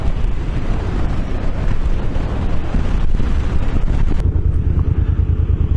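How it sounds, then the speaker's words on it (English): A Suzuki C50T motorcycle rides into a headwind at highway speed with no windshield, and loud, constant wind buffeting roars over the microphone throughout, with a low rumble underneath. "I'm about to take an absolute beating on Highway 31 going into the wind at highway speeds with no windshield"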